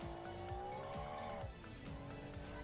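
Race car in BeamNG with a 2-liter turbocharged six-cylinder engine, droning loudly throughout as revs climb and drop, while tires squeal and skid through corners on a lap.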